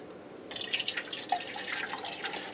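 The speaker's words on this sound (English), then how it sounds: "we're going to fill it up with water" Water runs from a tap into a container being filled to the brim, a steady splashing, trickling stream that starts abruptly and continues close by with no talking.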